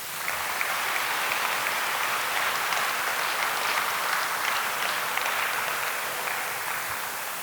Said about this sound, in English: Let's take a moment to thank those incredible guides with a well-deserved round of applause.